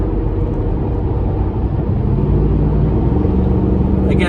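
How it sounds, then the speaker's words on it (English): A car fitted with a Magnaflow Overland Series exhaust cruises at highway speed, giving a steady, loud low rumble and drone of engine and road noise with no break. "Trying to get up to some semblance of highway speed so I can put it on cruise and you can hear what it sounds like at highway speeds."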